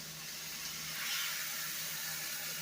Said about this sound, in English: now I'm just going to go ahead and add my water right to the pot.